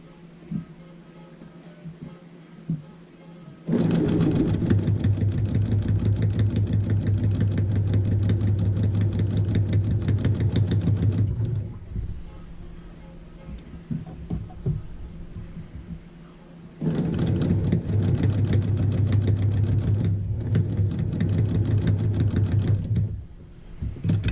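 A sewing machine stitches a fan quilt in two long bursts of rapid, steady mechanical whirring and needle clatter. Brief quiet pauses between the bursts hold small taps.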